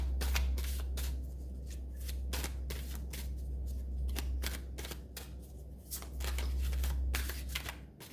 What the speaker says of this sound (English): I'll be shuffling on screen.